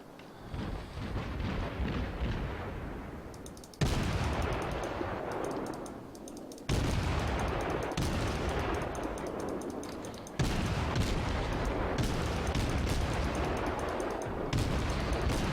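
The Kolberg cruiser's naval guns fire in World of Warships as a few heavy, booming salvos. Each one hits with a sudden loud blast and rolls into a long, rumbling decay before the next.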